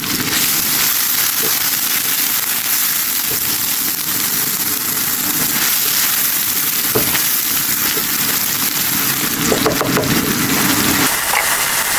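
Chopped onion, garlic and chili fry in oil in a pan while cooking koi fish, giving a loud, steady hiss and crackle close up, with a few sharper pops and clinks toward the end and no talking.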